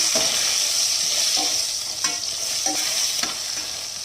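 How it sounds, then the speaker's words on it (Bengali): Eggplant frying in oil with turmeric and salt gives a steady, loud sizzle, broken by a few soft scrapes and stirs of a utensil in the pan, with no voices. "নুন হলুদ দিয়ে বেগুনটাকে একটু ভেজে নিচ্ছি।"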